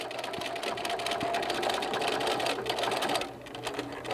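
A sewing machine runs steadily, back stitching along the edge of fabric for a curvy eyeglass case, with a continuous close whirring drone that eases slightly near the end.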